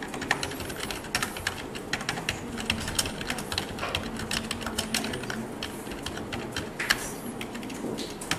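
Close, quiet typing on a computer keyboard, a steady patter of light key clicks in irregular bursts with no talking.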